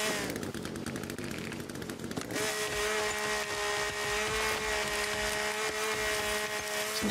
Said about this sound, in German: Ich nehme jetzt die Kettensäge